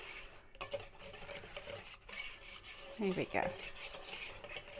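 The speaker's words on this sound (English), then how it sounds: "So I'm going to just stir it in." Gelatin and lemon curd mixture being stirred in a large bowl, giving a steady soft rubbing scrape with a few louder clinks near the end and a short remark spoken.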